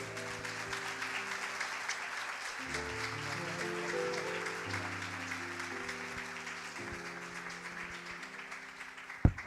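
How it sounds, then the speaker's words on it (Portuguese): A church congregation claps along at a worship service, a soft, broad wash of applause sitting under sustained organ or keyboard chords, quiet overall with a sharp knock near the end. "Aplauda o Senhor Jesus."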